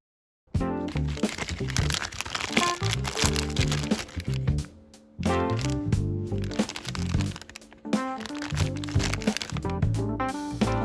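Ziploc plastic bag of cookie filling being handled and wrapped, with loud, close crinkling and crackling in continuous bursts and a couple of brief pauses, no speech.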